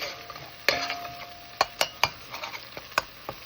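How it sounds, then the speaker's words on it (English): Garam masala sizzling in hot oil in a pan while a utensil stirs it, a soft steady fry under several sharp metallic clinks and taps, no one speaking. "I put some oil in the pan, and the oil is hot, so I add the masala"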